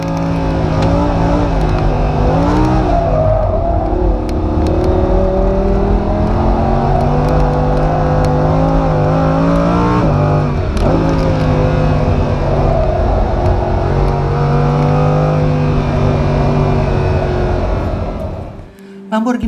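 Lamborghini Huracan LP sports car engine revving hard under acceleration, a loud sustained roar with rising and falling pitch sweeps as it shifts, continuous and close, ending abruptly near the end.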